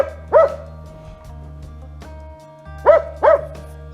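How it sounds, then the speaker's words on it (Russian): A dog barks during a hunting and fishing outing in the Komi forest: one bark, then after a pause two quick barks in a row, loud and close against a steady low engine-like hum. "Что-то было, лает."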